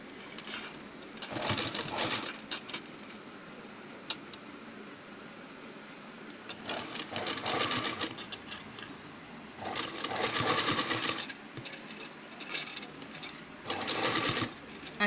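Sewing machine stitching a pot-neck blouse, running in several separate bursts of rapid mechanical whirring and clatter, close up, with quiet pauses between runs while the fabric is repositioned.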